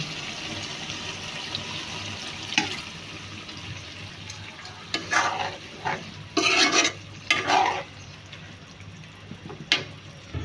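Water is poured into a pan of sizzling fish curry, a steady close frying hiss broken by a few loud gushing splashes and bursts of hissing steam, then stirring scrapes, with no talk.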